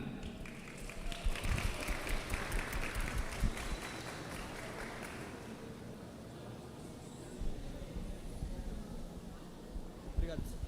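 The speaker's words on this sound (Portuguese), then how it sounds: "Palmas novamente para eles." An audience applauds student presenters at a school science exhibition, with quiet clapping that fades to room noise and picks up again briefly near the end, and voices talking under it.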